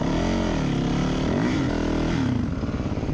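Dirt bike engine revving hard and close while riding over large logs on a trail, loud throttle blips rising and falling with clattering under the steady motor drone.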